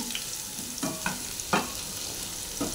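Potato pieces frying in hot oil in a pan hiss with a soft steady sizzle, broken by a few distinct scraping knocks of a spatula as they are stirred, close and fairly quiet.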